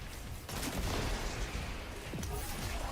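Dense gunfire from the video game Destiny fills the whole stretch, loud and continuous with overlapping shots and blasts, no pauses.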